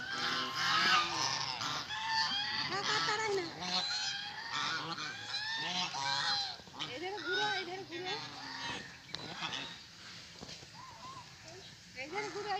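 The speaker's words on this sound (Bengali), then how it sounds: "আর এদিকে দেখো বন্ধুরা হাঁস গরু আমাদের গ্রামে কেমন চড়ছে" Ducks and geese roaming a village make a dense chorus of loud, nasal honks and quacks that overlap continuously, close by and busy throughout.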